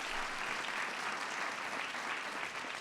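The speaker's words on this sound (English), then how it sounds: "Give him a big round of applause." A large audience claps steadily and loudly throughout at a ceremony honoring the 2015 NCAA champion University of Connecticut Huskies, dense and even with no gaps.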